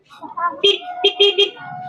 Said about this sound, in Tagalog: At saka busina